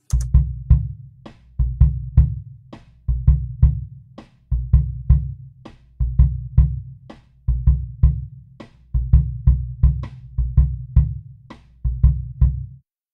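A drum kit captured through an old B&O ribbon microphone fitted with an RCA ribbon in a home studio, playing a steady groove of deep, boomy kick and tom hits with bright cymbal and snare accents in repeating bars, close and alone.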